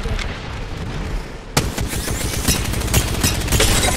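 Dense, heavy gunfire in the video game Apex Legends erupts in rapid bursts, with a sharp loud blast partway through followed by sustained booming shots and clatter.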